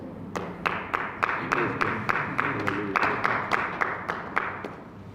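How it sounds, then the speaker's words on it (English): An audience claps in a slow, steady unison rhythm, roughly two claps per second, each clap a sharp distinct hit over a low room murmur, moderately close and without speech. "Why are they clapping?"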